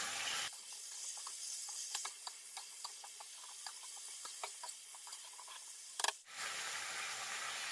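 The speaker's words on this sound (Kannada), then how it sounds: "ಈಗ ಇದನ್ನು ಚಲೋ ತಂಗ ಎಣ್ಣೆ ಒಳಗೆ ಕಾಳ್ಸೊಂಡ್ರಿ ಬದ್ನಿಕಾಯಿ." Brinjal pieces frying in hot oil in a pan: a steady close sizzle with scattered crackles and pops, a brief loud clatter near the end, no voices.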